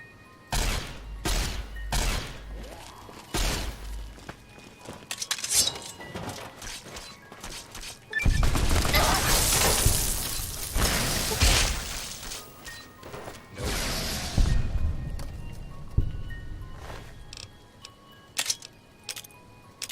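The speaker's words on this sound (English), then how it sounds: "Flashbangs." Flashbang grenades going off in Fallout gameplay: a run of sharp cracks and bangs followed by long, loud blasts of hissing noise, then scattered clanks and smaller impacts.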